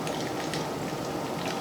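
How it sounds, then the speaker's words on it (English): White rum poured from a measure into a cup of keto, low-carb rum punch: a steady, continuous trickling splash, close and fairly quiet, with no talking. "And I'll go ahead and pour that in here."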